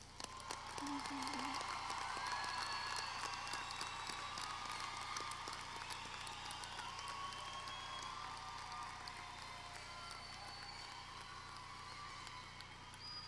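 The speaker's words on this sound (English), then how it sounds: "Let's give the graduates another round of applause" A large commencement crowd applauding graduates, a sustained even wash of clapping held steady throughout, with faint voices mixed in.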